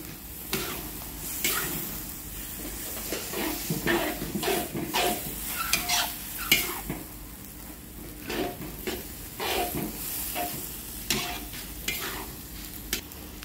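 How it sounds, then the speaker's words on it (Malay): Repeated scraping and stirring of rice vermicelli in a hot pan, uneven strokes over a low sizzle, close up with no talking. "Kacau-kacau dulu."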